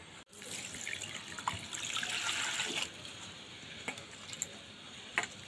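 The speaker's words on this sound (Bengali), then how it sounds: "এবার ভালো করে জলটা পাল্টিয়ে 2-3 বার ধুয়ে নেব।" Sago pearls are rinsed in water, with gentle sloshing, trickling and splashing from a tap or bowl, plus a few soft clicks, close by and fairly quiet.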